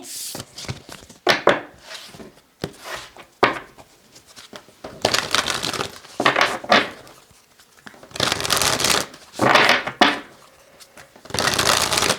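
Tarot cards being reshuffled by hand: a run of brisk papery riffling and shuffling bursts separated by short pauses, close and moderately loud, with no talking.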